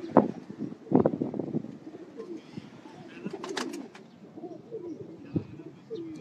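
Pigeons from a fancier's loft coo repeatedly in soft, low throbbing calls, with a few brief chirps and bird twitters mixed in nearby, loudest in bursts at the start.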